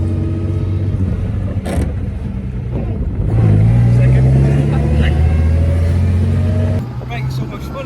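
Classic car engine pulling hard in third gear, a loud rising drone that swells in the middle and eases near the end, with people talking over it.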